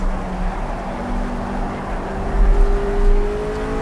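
A RUF RGT 8 in the racing game Project CARS climbing uphill in third gear on the Eifelwald course, its engine droning and revving steadily, with the revs rising toward the end.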